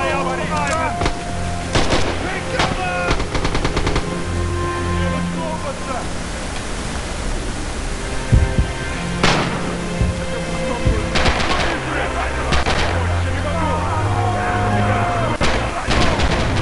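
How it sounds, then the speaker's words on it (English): Machine gun fire in the World War II shooter game Red Orchestra 2, fighting through the Red October factory at Stalingrad, with rapid bursts and scattered shots over a dense battle din and voices. "Got a guy in an MG over here."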